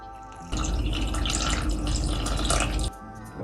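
A steady stream of water pours into flour for dumpling dough for about two seconds, a close, continuous splashing pour that starts and stops abruptly.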